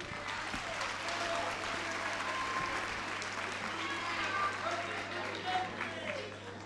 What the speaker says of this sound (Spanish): Un forte aplauso.